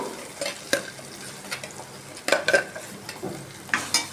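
Egg curry with added water bubbling and sizzling steadily in a pan, with occasional spoon scrapes and clinks against the metal, close up and without talk.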